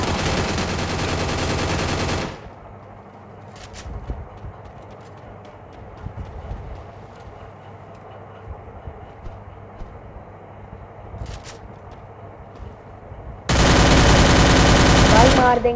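Gunfire in the battle royale video game Free Fire, with loud dense bursts at the start and again near the end, and a quieter stretch between them holding a few faint distant shots.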